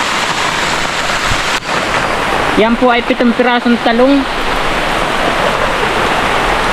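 Heavy rain pours steadily over a vegetable garden where string beans were just planted, a dense hiss running throughout while someone speaks briefly in the middle.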